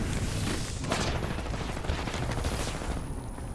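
Rapid bursts of gunfire from an Apex Legends tournament match, dense overlapping shots and automatic fire running continuously and loudly throughout with a busy game soundscape behind.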